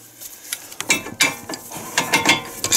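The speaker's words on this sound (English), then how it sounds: "Just get them ratchet tight here" A ratchet clicks in quick, uneven bursts while tightening the brake caliper bolts on a Chevy Equinox during a disc brake pad and rotor replacement. It is close and fairly loud, with no talking.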